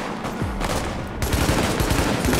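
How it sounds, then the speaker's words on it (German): Gunfire in The Division video game is fired through a car in a rapid string of sharp shots, with a louder, denser burst in the second half. "Ich schieße einfach durchs Auto kaputt."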